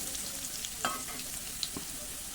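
Potatoes frying in oil in a pan until browned, a quiet continuous sizzle with a few soft clicks and scrapes, close but low in level, no voices.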